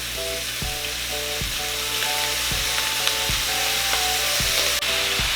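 Soy sauce goes into Cebuano-style paklay broth simmering with lemongrass, giving a steady close sizzle and bubbling with a low hum beneath and a few soft regular knocks.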